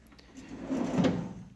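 A garage plier drawer slides open and shut with a soft rumbling glide, a single close, muffled movement lasting about a second.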